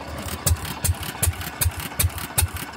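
A Fairbanks Morse 208 oilfield engine idles alone after 36 hours down, firing in slow, evenly spaced heavy thumps about every 0.4 seconds with a mechanical clatter between beats.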